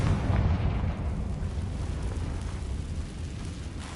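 A fiery Confringo spell blast in Hogwarts Legacy lands as a loud, rumbling explosion that swells at the start and then rolls on in a dense, crackling roar, with no voices over it.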